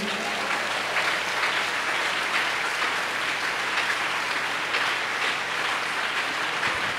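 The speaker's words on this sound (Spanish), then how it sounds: "Dele un aplauso a la gloria de Dios." Steady applause from a church congregation during a sermon, a broad continuous patter of many hands at moderate level lasting several seconds, with a low hum beneath and no talking.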